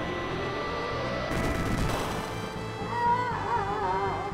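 Explosions in a Chrono Trigger battle sound as a sudden burst of crackling booms, followed by shimmering, wavering synthetic effects that fade over a few seconds.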